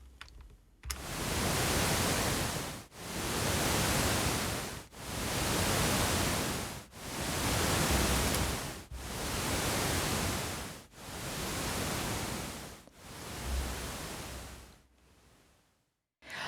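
Steady broadband hiss of pink noise synthesized in SuperCollider swells and fades in regular pulses about every two seconds, like waves washing in, then stops.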